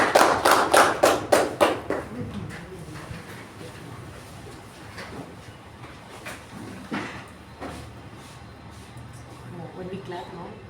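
A short burst of rhythmic hand claps from a Toastmasters club meeting audience, about eight evenly spaced claps up close, followed by scattered taps and bumps under ongoing talk.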